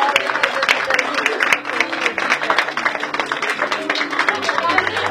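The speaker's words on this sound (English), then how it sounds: "can we give her a big round of applause?" Audience at a school award ceremony for an Excellence in Teaching Award winner applauding, a dense burst of clapping from a mid-sized crowd with voices mixed in.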